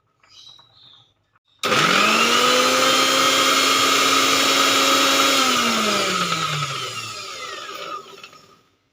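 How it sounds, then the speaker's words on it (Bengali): Electric mixer grinder blending raw green chilies into a paste for KFC-style fried chicken, starting abruptly with a loud steady whine that holds, then the motor pitch sags and slows down toward the end. "আমি মিক্সির বাটিটা ধুয়ে নিয়ে নিয়ে কারণ আমি এই কাঁচা লঙ্কাগুলো পেস্ট করব"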